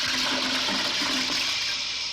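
A toilet flushes close by, a loud rushing swirl of water that holds steady for a couple of seconds, alone with no talk.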